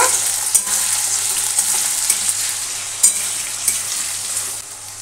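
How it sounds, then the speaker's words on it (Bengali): Cut potatoes frying in a pan in a home kitchen, a steady close crackling sizzle with a few sharper pops from stirring, no talk. "আলুগুলোকে এবার লাল লাল করে ভেজে নেব"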